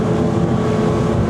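An XO DSCVR 9 T-Top boat with a 400 hp V10 engine runs at speed through a ferry's wake, a dense, loud, continuous roar of motor and rushing water with no voices.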